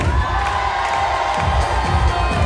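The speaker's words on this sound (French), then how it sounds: "il faut crier à 3. 1, 2, 3, criez." A crowd at a Cité des arts gathering shouts and cheers on cue after a countdown, a loud, sustained roar of mixed voices including children, with no other sound in the mix.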